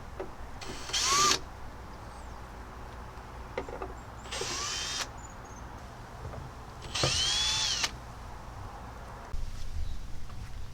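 A power drill backs Phillips screws out of the cover of a LiFePO4 51.2V 150Ah golf cart battery, giving four separate short whirring bursts with quiet pauses between them, close up and without speech.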